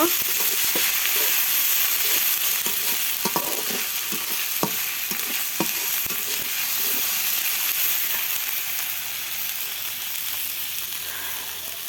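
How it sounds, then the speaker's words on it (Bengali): Garlic, ginger and cumin paste frying in a pan for a pointed gourd korma, a constant hissing sizzle with sharp clicks and scrapes from stirring, no talking. "যেমন রসুন বাটা, আদা বাটা, জিরে বাটা, মশলাটা আমি ভাজে নেব।"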